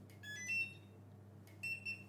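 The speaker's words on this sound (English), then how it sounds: "So barcode, you got the beep voice here." Short electronic barcode scanner beeps sound faintly, a pair of high tones, a pause, then another pair, over a low steady hum.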